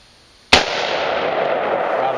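A Bushmaster rifle fires a single loud, sharp shot at a skeet target outdoors, followed by a long, broad rumbling echo that lingers and fades.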